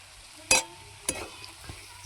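Ridge gourd sautés in oil, likely over a wood-fired stove. Two or three short scraping stirs are heard up close, the first the loudest, over a faint background hiss.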